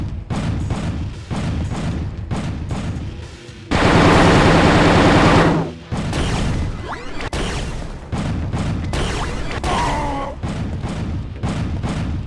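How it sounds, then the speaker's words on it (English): Weapon fire in the PS1 version of Quake 2, including a BFG blast: rapid mechanical gunfire bursts recur throughout, broken by one loud, dense roaring discharge lasting about two seconds near the middle. "that freaking BFG shot really screwed us over"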